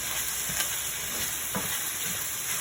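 Tomato paste and seasoned ground meat sizzle steadily in a hot pan for a Bolognese sauce, with a constant frying hiss and a few soft stirring scrapes.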